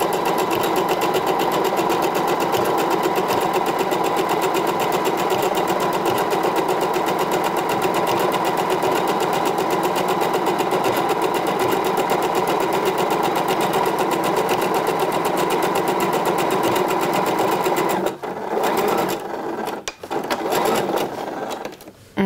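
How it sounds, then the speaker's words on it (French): Sewing machine running a long continuous basting stitch along the base of the tabs on a blouse cuff, a loud steady whirring drone for most of the time, then stopping and starting in short bursts near the end. "je vais venir donc faire le bâti à la machine, vraiment à la base de mes brides"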